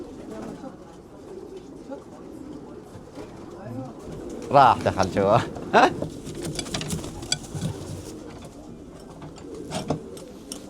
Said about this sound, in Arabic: مثل هذا الزاجل الجامبو.